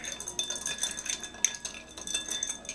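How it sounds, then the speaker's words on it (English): A bar spoon stirs ice in a mixing glass for a Rosita cocktail, giving a run of close, bright clinks and rattles in an uneven rhythm, with no talking. "Get the stirring action going on here."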